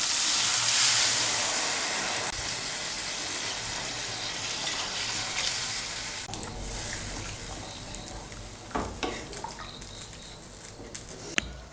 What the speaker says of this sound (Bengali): আমি এর মধ্যে 2 কাপ গরম জল দিচ্ছি।